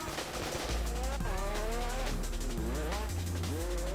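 Racing car spinning out on a track in the Roblox game Fix it Up, tires squealing in rising and falling wails over a buzzing engine that shifts pitch, loud and close throughout.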